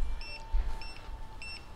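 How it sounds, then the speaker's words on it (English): A Guardian water leak detector alarm sounds three short electronic beeps at an even pace, high-pitched and clear over a low background rumble, as its valve closes. "it's beeping away and the valve is closing"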